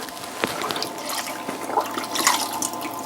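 Water drips and trickles as a pottery sponge is wetted at the wheel, a few distinct drops among a soft ongoing splash, close by, with no speech.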